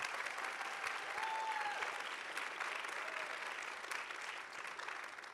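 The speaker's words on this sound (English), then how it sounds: "Can we just give another round of applause for the panelists here?" Conference audience applauding panelists after a session on reproductive freedom and business, sustained clapping that stays fairly constant and quiet, slowly tapering toward the end.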